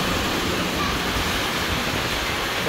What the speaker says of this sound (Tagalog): Dito kayo! Malakas ang hangin, malakas!